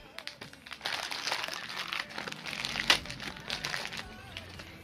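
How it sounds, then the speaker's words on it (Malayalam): Plastic packaging from a Flipkart delivery of hair care products crinkles and crackles continuously as it is opened, a busy close rustle with a sharper crunch near the middle. "അപ്പോൾ ജസ്റ്റ് അൺബോക്സ് ചെയ്ത് നോക്കാം."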